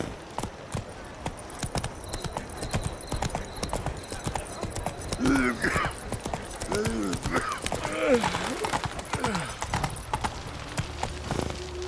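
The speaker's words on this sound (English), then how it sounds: "Run, Roach." A horse gallops in The Witcher 3, with rapid rhythmic hoofbeats running throughout, mixed with game sounds and intermittent voices.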